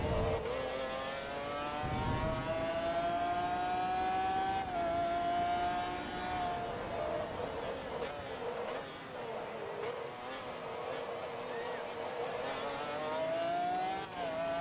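Race version of a car in Forza Motorsport 2 roars steadily throughout, its engine revving up and down with rising and falling pitch through gear changes, loud and continuous with no talk.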